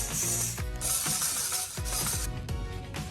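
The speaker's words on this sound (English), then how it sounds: "Then we tighten the screws of table legs." A ratchet tool tightens the screws on table legs while a hyperbaric chamber air conditioner is set up, giving close, crisp bursts of rapid clicking over several strokes with brief pauses between.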